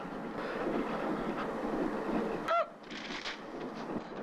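A moving train rumbles with a steady broadband roar and clatter, loud and close, then a short screeching whine cuts in and the noise suddenly drops to a quieter interior hiss.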